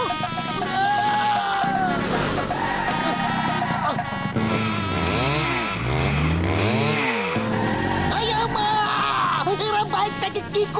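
A cartoon motorbike, just serviced by mechanics, races out of control with a revving, whining engine that rises and falls. Loud animated sound effects and frantic voices overlap it throughout.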